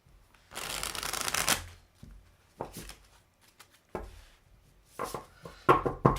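An Alcento tarot deck is shuffled by hand in a quiet room: a long riffling burst comes first, then several shorter shuffles and card taps, close and clear, with no talking.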